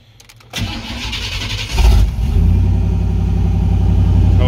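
A 1988 Chevy C1500 Silverado pickup cranks briefly and fires up, its engine catching with a surge and settling into a loud, steady idle close by.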